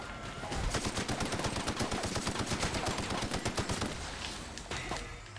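Rapid automatic bursts from an upgraded assault rifle in The Outer Worlds, loud and close. Shots come in fast, regular volleys for several seconds before tapering off, with brief scattered shots at the end.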